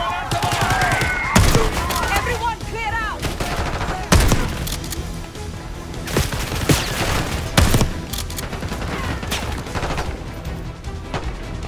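Rapid gunfire bursts and scattered shots from the video game Call of Duty Black Ops 6, loud and continuous throughout, with game voices mixed in.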